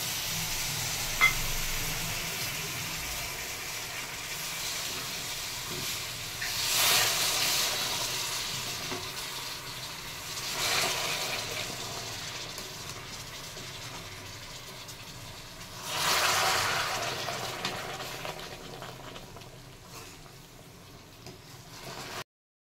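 Water poured into a hot pan of melting sugar crystals for amla murabba sets off a steady, quiet sizzle and hiss, rising in a few brief louder surges.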